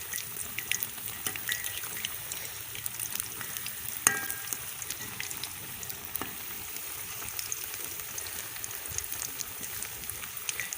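Pakoras deep-frying in hot oil for Punjabi kadhi pakora, a continuous crackling sizzle with scattered pops and a couple of sharp clinks as the pieces are turned over, close and without talk.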